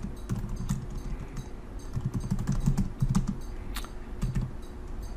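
Steady keystrokes on a computer keyboard as a command is entered into a cloud storage shell, a quick irregular clatter of taps running throughout at close range, with no talking over it.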